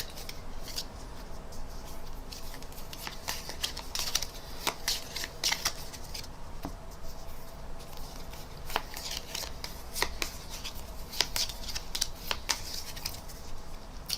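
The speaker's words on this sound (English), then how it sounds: "All of the spectators shuffle their cards and give them a good mix." Spectators shuffle and mix piles of playing cards during a mind-reading card trick performance, a steady stream of soft riffling snaps and flicks with no talking.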